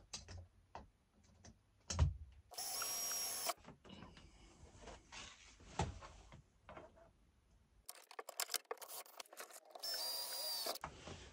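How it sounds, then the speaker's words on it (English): A small power drill spins a thin bit while fitting a curtain kit inside a Volkswagen Vanagon T3, giving two short high whining bursts between quiet handling clicks and taps. "When you're dealing with little small, thin drill bits like this, don't push too hard."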